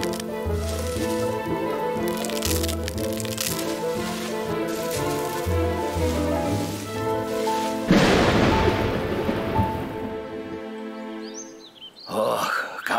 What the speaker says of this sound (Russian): сильный дождь. Похоже, что еще и с градом.